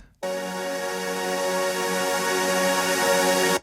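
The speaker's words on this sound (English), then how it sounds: "made a big reverb tail, reversed it," A swelling, sustained synth wash, a reversed reverb tail, rises in from silence and holds steady, its tone gently pulsing in a rhythmic tremolo.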